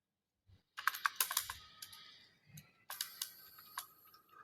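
Python code is typed on a computer keyboard in quick bursts of clicky keystrokes, with short pauses between the runs and heavier thumps mixed in, recorded close up with no speech.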